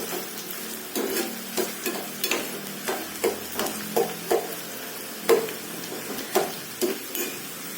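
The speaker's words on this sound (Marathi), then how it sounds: "गॅस आता फुल करते. परतून घ्यायचं चांगलं." Peas and paneer sautéed in a pan over a full gas flame, a spoon scraping and knocking the pan in regular strokes above a constant sizzle, close and clear with no talking.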